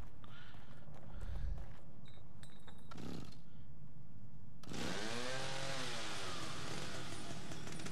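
A chainsaw in the survival horror game The Evil Within starts up and revs loudly after a few seconds of scattered thumps and footsteps, its engine whine holding steady and close to the end.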